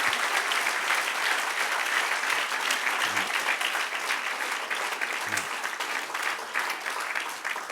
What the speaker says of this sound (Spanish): Denle un aplauso al que reina y vive para siempre.